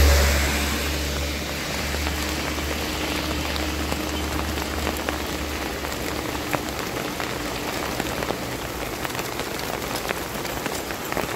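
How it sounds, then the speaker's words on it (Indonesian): Heavy rain pours steadily onto a surface beside a deep river during a tilapia fishing trip, a dense, continuous hiss with scattered close drops and a low hum underneath. "karena ini hujannya besar ya."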